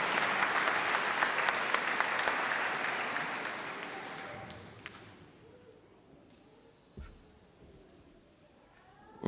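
Audience clapping at a church gathering, a dense burst of applause that carries for about five seconds and then fades into quiet room noise with a few faint knocks.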